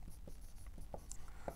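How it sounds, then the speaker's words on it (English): Pen scratching across paper as notes are handwritten during a lecture on EKG readings, a soft, steady scribble with a few sharper strokes, close and alone. "So let's write that down here."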